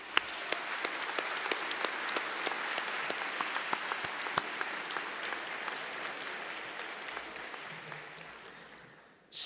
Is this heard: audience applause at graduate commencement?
yes